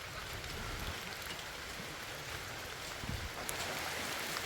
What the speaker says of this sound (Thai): โอ้ยฝนตก